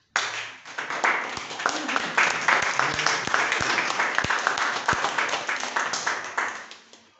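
Audience members at a Toastmasters meeting clap together in sustained applause, a dense mix of claps with a few sharp, close handclaps standing out, fading away at the end.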